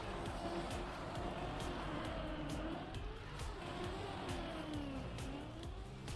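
Engine drone of a car in the Trackmania racing game, a steady synthetic hum whose pitch dips as the car brakes and then climbs again, with faint tire noise, loud and continuous throughout.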